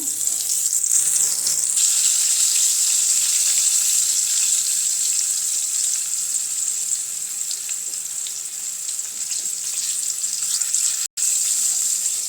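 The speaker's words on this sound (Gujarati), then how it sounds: "તેલ ગરમ થઈ ગયું છે, જીરું ઉમેરી દઈશું, અડધી ચમચી વઘારી, તેની સાથે આપણે આ ભીંડાની સીંગું મૂકી દેવાની છે" Cumin seeds and stuffed okra sizzling steadily in hot oil in a home kitchen, a loud, continuous hissing fry with no talking.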